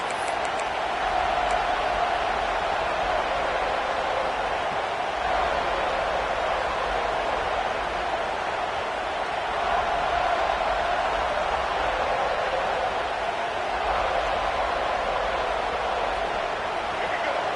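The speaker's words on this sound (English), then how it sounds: "This crowd bringing the energy and noise early." A large American football stadium crowd roars steadily from a distance, a continuous wash of cheering and noise that holds at the same level throughout.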